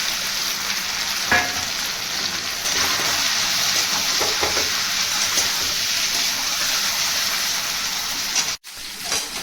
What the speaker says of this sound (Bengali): এবার মাংসগুলোকে ভেজে নেব।